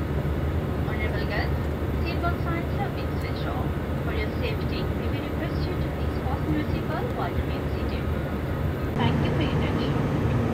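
Airplane cabin during flight, filled with a loud, unbroken engine drone while people talk over it.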